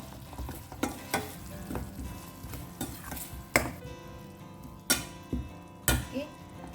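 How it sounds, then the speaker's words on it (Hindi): Goan-style hog plum curry being stirred with salt in a pan: a steady sizzle under repeated scraping strokes of a spoon, with several sharper knocks against the pan, close and moderately quiet. "अच्छे से मिक्स करें।"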